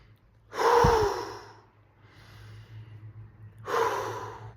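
A person takes two strong, close breaths, a sharp gasping intake followed by a long exhale, then a softer breath after a short pause, with a faint steady hum underneath.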